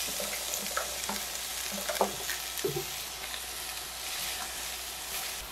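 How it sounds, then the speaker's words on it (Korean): Sliced zucchini stir-fries in oil in a pan over medium heat, giving a soft steady sizzle with occasional clicks from stirring. "중불에서 1분간 볶아줄게요."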